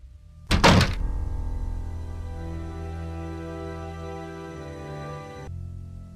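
A locked door in a Nancy Drew video game rattles with one sharp thunk as the handle is tried, followed by a steady resonant hum that lingers for several seconds before cutting off.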